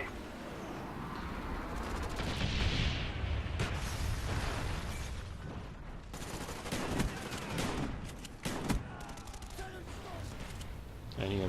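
Shotgun fire in the Call of Duty Black Ops video game, dense repeated blasts and gunfire sounds running continuously and loudly throughout, with game effects layered over them.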